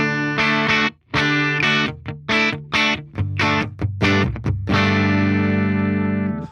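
Electric guitar, a sparkly pink Kiesel Vader, runs through a Fender Tone Master Pro layered synth patch, playing loud distorted chords in choppy rhythmic bursts before ringing out in sustained tones.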